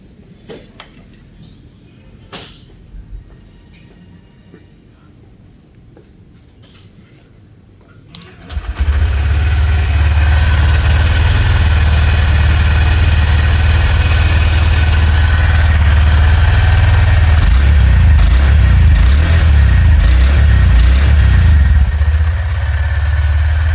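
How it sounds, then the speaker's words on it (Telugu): A 2025 Honda SP 125 motorcycle with a chrome and black exhaust starts after quiet handling sounds, then settles into a steady, loud, close idle that runs alone for the rest of the clip. "ఇప్పుడు ఒకసారి 25 మోడల్ ఎగ్జాస్ట్ సౌండ్ వినండి."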